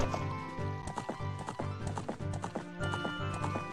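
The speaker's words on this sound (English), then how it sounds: "Oh look, our horse waited. What a good horse." Epona, the horse in Zelda: Ocarina of Time, trots with a quick regular clip-clop of hooves, close and clear, layered over the game's background music with no talking.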